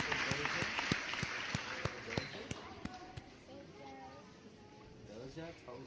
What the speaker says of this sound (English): Clap. Round of applause.